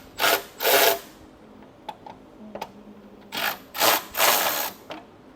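A power driver with an Allen bit unscrews rear fender screws in short whirring bursts, two then three, separated by faint clicks and small handling noises.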